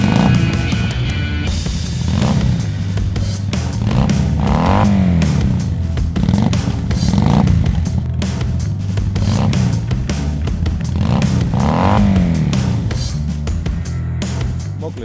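A Honda Shadow VT750 ACE motorcycle engine, a heavy cruiser, revving close up in repeated rising and falling bursts over a deep idling rumble for about fifteen seconds.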